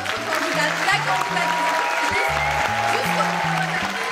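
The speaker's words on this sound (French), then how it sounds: "Je l'appelle à la tribune sous vos applaudissements, notre candidate" A rally crowd applauds as Eva Joly is called to the stage, giving dense sustained clapping under a loud low musical pulse that plays throughout.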